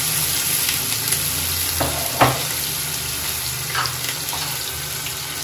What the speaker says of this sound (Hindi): अदरक लहसुन का पेस्ट हमारा थोड़ा सा भुन गया है